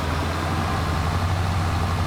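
Tractor engine in a farming video game, a steady low diesel drone running continuously and loud with no pauses.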